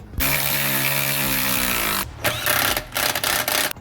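An impact gun tightens bolts on a 2007 Toyota Prius rear suspension during a coil spring replacement, first in one steady two-second whirring burst, then in several shorter rattling bursts, close and loud.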